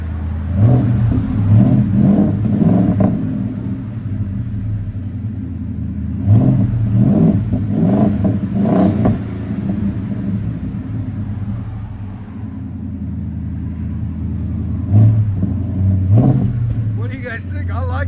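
A Ford F-250 with a 7.3L V8 and a Borla ProXS exhaust revs hard in repeated bursts: loud, deep, rumbling throttle blips between lower idle stretches.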